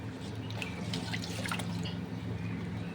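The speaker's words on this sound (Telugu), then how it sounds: "నేనైతే 2 గ్లాసుల వాటర్ అయితే వేస్తున్నాను." Water poured into a pot of sambar, a steady liquid splashing and dripping at close range, low in level and alone without talk.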